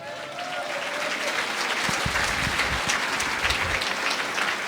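A church congregation in Sucre, Bolivia, applauds loudly and steadily, a dense wash of clapping filling the space from start to finish.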